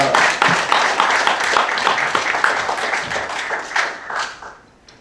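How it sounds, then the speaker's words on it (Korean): A congregation at a church prayer meeting bursts into hearty applause, many hands clapping densely and steadily, with a few stronger claps standing out before it gradually thins and fades. "우리 박수 한번 보내시다"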